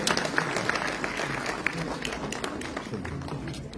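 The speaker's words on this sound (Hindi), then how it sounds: "जोरदार तालियां" A crowd applauds at a theatre festival inauguration in a dense, continuous patter of clapping that holds steady throughout, with some voices mixed in.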